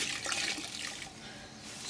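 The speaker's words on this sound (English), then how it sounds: "we're washing the sponges" Sponges being washed and squeezed out with water while cleaning Rolls-Royce leather seats, a soft wet splashing and dribbling close by, faint and brief, with no talk.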